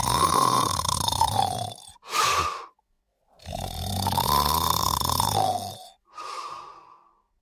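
Loud, rough snoring in long rattling breaths, several cycles separated by brief pauses, close and alone.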